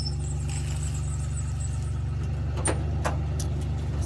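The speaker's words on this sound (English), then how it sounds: "is moving her truck over here" A pickup truck engine idles nearby with a steady low rumble and even hum, holding constant throughout with no voices.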